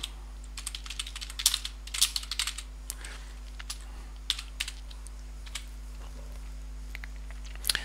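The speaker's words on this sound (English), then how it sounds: "we're going to type, it says stickers are great," Keys on a computer keyboard clack in uneven bursts as a short phrase is typed, close and fairly quiet, with irregular clusters of taps and brief pauses between them, over a low steady electrical hum.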